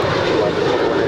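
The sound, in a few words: Boeing 737-900ER jet airliner taking off at LAX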